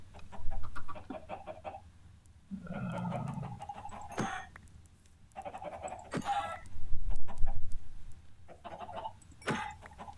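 Minecraft chickens clucking in short bursts amid game sound effects, with several sharp clicks from item handling and a low clucking flurry in the middle; no talking.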